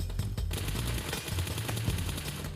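Rapid automatic gunfire in PUBG Mobile, fired from a normal standing position, loud and close, a steady stream of sharp repeated shots with no pause and no talking.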